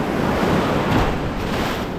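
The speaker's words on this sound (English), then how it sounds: "these waves are just getting bigger" Big ocean waves break loudly onto a sandy shore where a handmade raft is being launched, a continuous crashing roar with gusty wind buffeting the microphone and no voices.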